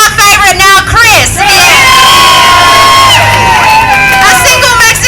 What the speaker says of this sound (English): A single Mexican wave.